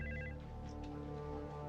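A special telephone rings in a televised hospital scene during a presidential emergency, a steady electronic trill sounding at the start above a constant dense background hum that carries through the whole moment.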